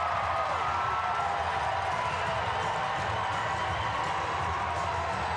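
Home crowd at a Binghamton Black Bears hockey game roars with steady cheering and noise after a referee's penalty call, a dense sustained wash of voices filling the arena.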